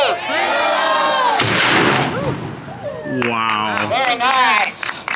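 A historic cannon firing a gunpowder charge at St. Augustine booms once, sharp and loud, after shouted commands, and an outdoor crowd reacts with cheers and chatter afterward.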